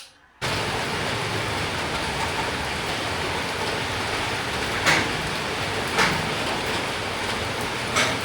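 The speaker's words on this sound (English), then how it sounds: "The rain is getting heavier and heavier." Heavy rain pours steadily in a dense, unbroken hiss that starts abruptly and stays loud, with a few sharper splashes.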